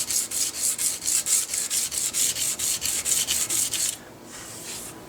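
Wood is sanded by hand with 220 grit sandpaper in rapid, even back-and-forth rasping strokes, close and loud, about a dozen strokes before a softer, quieter rub at the end.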